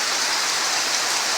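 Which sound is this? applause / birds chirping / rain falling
rain falling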